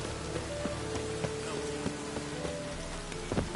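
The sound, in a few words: rain falling, from a video game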